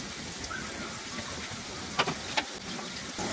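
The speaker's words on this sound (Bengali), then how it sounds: "আলুগুলো আমি মাঝারি আঁচে ভাজতেছি, কারণ আলুগুলো সিদ্ধ হইতে হবে" Potatoes fry in a pan over medium heat with a soft, even crackle, a few sharper pops and taps of a utensil standing out near the middle, close and moderately quiet.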